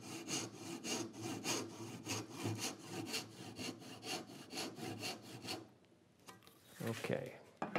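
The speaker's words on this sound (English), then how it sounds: "That just stops the saw from jumping out." Hand saw cutting wood while making a dovetail template, a steady rhythmic series of close, rasping push strokes for several seconds, then a brief pause and a few lighter strokes.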